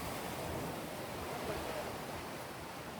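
Sea surf at Kanyakumari beach, where the Bay of Bengal, the Arabian Sea and the Indian Ocean meet, gives a steady, dense wash of breaking waves with windy hiss and no speech.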